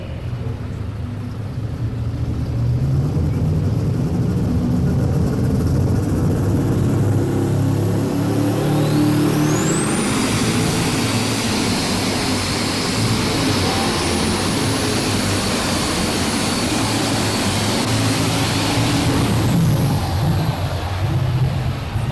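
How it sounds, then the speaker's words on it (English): A loud, steady engine roar builds and holds at high revs for the whole stretch, with a rising whine partway through, from a Caterpillar 3208 diesel in a pulling tractor under heavy load. "a very unusual sound, that 3208 Caterpillar motor inside this baby"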